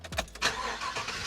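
Large truck engine cranks and catches briefly, a short burst of starter churn rising into a running engine rumble over about a second.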